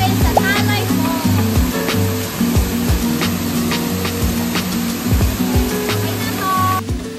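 Talay Falls pours with a steady roaring rush of water, close and continuous, while people talk over it.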